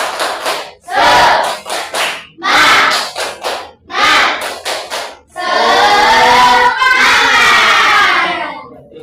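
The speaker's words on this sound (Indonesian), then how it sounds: "Tepuk semangat." Elementary schoolchildren in an Indonesian Islamic school classroom perform a rhythmic spirit clapping chant, loud bursts of group clapping in a set pattern, ending in a sustained shouted cheer from the whole class.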